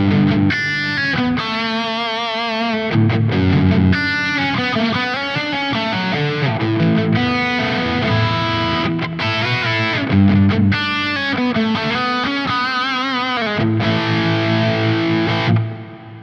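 Heavily distorted electric guitar through a Quad Cortex with a thick high-gain, 5150-style amp tone, overdrive pedal off, played in chugging bursts and sustained chords, washed in delay and reverb, no voices.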